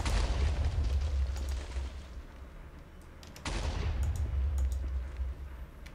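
Explosions boom in the video game Agrarian Skies 2, two loud, rumbling blasts a few seconds apart, each fading into a dense, crackling roar.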